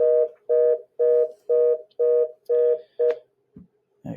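Seven evenly spaced telephone dialing tones beep from a Grandstream UCM6300 IP PBX, clear and loud, followed by a couple of faint clicks.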